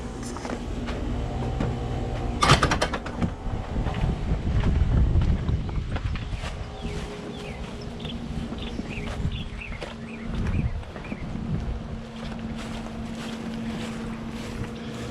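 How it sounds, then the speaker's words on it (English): A neighbor's outdoor air conditioner condenser unit hums steadily with a low mechanical drone, mixed with wind noise and a few brief clunks, no talking. "That's the next door neighbor air conditioner that you hear."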